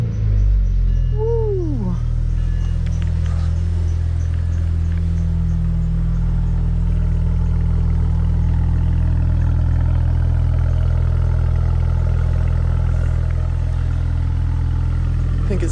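BMW 335i with an aftermarket exhaust cranking over and settling into a loud, deep, rumbling idle that holds steady and close for the rest of the clip, with a brief shout near the start.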